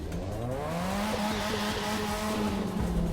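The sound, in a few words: car engine revving in The Crew 2 video game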